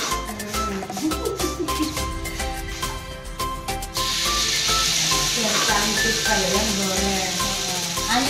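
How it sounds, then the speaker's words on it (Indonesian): Food frying in hot oil over a low flame for stir-fried papaya, corn fritters and sambal, a steady close sizzle and hiss that grows louder partway through, with kitchen clatter underneath. "Nah ini setelah minyaknya panas, kita mulai goreng ya."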